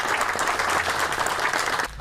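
Applause from a crowd at an event announcing a $22 million sewer system grant in Ardmore, on the Alabama-Tennessee state line; steady clapping that stops abruptly near the end.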